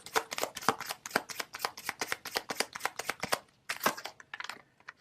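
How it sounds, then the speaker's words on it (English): A deck of tarot cards riffled and shuffled in a steady run of crisp, rapid flutters, close and fairly loud, pausing briefly before a final burst of shuffling. "All right, so let's get another card here."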